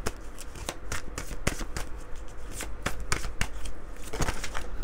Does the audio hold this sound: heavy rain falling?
no